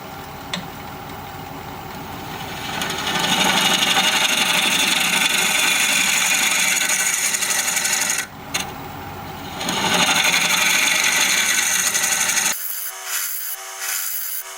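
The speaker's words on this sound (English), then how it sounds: "I guess I am going to have to go to carbide to blend that walnut to the side wall here." A carbide tool cutting a walnut bowl spinning on a wood lathe, giving a continuous loud scraping and rasping hiss with a steady motor hum, broken by a short pause before the cut resumes, then stops.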